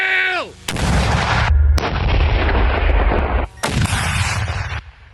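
A loud, booming artillery shot fired from a Ukrainian front-line position, with a long rumbling roar, then another heavy blast a moment later, both close and powerful.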